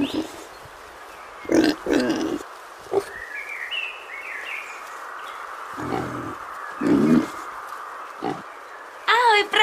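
Several short grunting bursts from pigs on a farm, a few close and fairly loud, spaced irregularly across the stretch over a steady background hiss, with a brief high chirping sound near the end.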